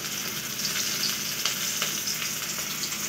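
Bay leaves, a little sugar and onion frying in hot oil in a pan, a steady, close and bright sizzle with faint stirring crackles throughout.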